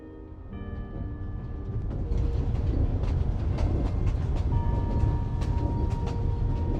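A train runs along rails in the Genshin Impact game world, a steady loud rolling rumble with faint tonal hums and light rhythmic clicks throughout, with no voices.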